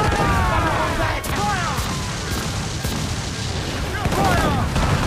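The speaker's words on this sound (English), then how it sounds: "I love those fast cannons." Ship cannons in Assassin's Creed 4 Black Flag fire in rapid, heavy booms during a naval battle, repeated over a loud continuous roar of sea and gameplay noise.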